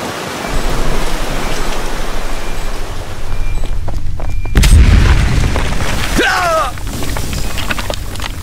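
C4 explosion in Aliens: Dark Descent: a heavy, deep boom bursts out midway through loud, steady combat noise, followed by short electronic chirps.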